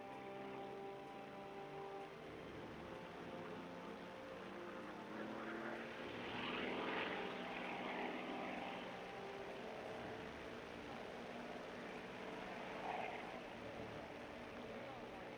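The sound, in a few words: propeller aircraft engine in video game War Thunder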